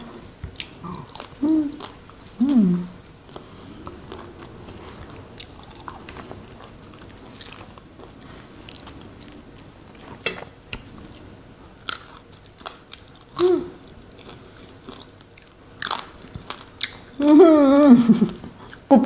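Crispy roast suckling pig skin being bitten and chewed up close, with a few crunchy bites spread across the clip and a louder burst of crunching near the end, while someone talks quietly in between.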